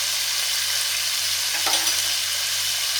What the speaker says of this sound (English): Put the flame on high and stir fry it.